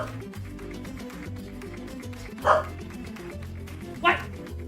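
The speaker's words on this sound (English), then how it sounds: "Every time I don't look at you, you bark at me." A dog gives two short, sharp barks a couple of seconds apart over a steady background of droning game music and ambience.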